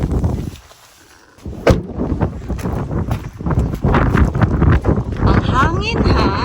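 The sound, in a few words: wind blowing outdoors, wind noise on microphone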